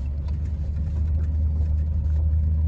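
A junk removal truck drives in four-wheel drive in freezing weather, its engine giving a steady, close, low rumble with no talk.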